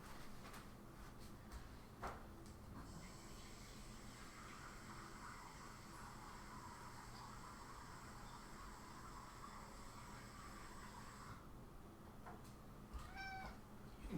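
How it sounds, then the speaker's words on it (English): A house cat meows to be let in, a soft, drawn-out cry held for several seconds over steady room hum, with faint clicks and a short chirpy call near the end. "cat wants in"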